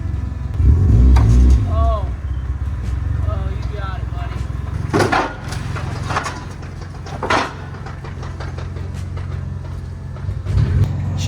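A Mazda Miata with a broken transmission that has lost second gear makes rough, unhealthy mechanical noise, with engine droning and sharp clunks and knocks. Someone speaks over it.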